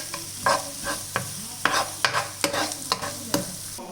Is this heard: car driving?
no